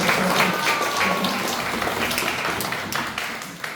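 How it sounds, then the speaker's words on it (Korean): A congregation applauds at a children's department dedication worship service in a church, steady and full throughout, with a faint voice underneath. "박수 주세요. 박수합니다."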